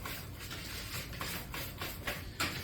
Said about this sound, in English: We're going to take our whisk and we're going to whisk this up really well.